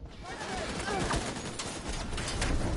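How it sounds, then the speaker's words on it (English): Automated turret in The Division 2 firing in a dense, continuous barrage of rapid shots, loud and close throughout, with a voice faintly mixed in under the gunfire. "Turret going nuts."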